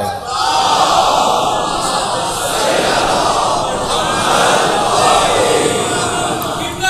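A crowd loudly recites salawat together, a dense, sustained roar of many voices that swells and eases over several seconds without a break.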